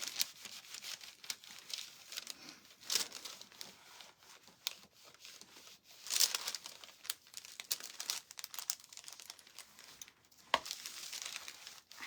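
Parchment paper crumpled and handled at a crafting table, a steady crinkling texture with sharper crackles and rustles throughout, fairly quiet and close, with no talking.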